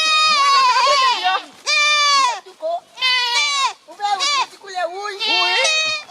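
Goats bleating in a series of loud, close, wavering cries, several overlapping calls spaced with short pauses, no talk.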